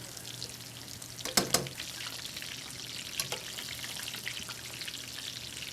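City chicken frying in hot oil, a steady close sizzle with a couple of sharp pops and sputters early on and another later, and no voices over it.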